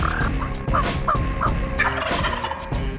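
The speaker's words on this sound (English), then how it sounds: "that son of a gun put on a show, and did he do some serious gobbling" A wild turkey gobbles repeatedly during a spring hunt in the southern United States, a close, loud, rapid rattling call with several bursts over a steady outdoor background.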